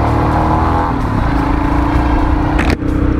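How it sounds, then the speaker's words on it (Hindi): Dense, loud road traffic surrounds a Royal Enfield Himalayan motorcycle in Indian city riding, a steady roar of engines with a brief scrape near the end. "भाई साहब, यहाँ तो ऐसा ट्रैफिक हद से ज़्यादा ही रहता है यार"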